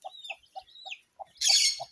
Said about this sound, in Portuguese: eu vou mostrar a galinha aqui